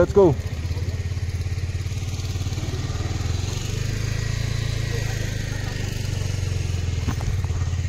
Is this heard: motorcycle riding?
yes